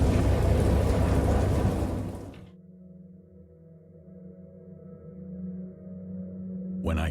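Thunderstorm in the game Dagon: a loud rushing wash of rain and rumbling thunder drops off abruptly to a low, quieter drone before the roar briefly returns.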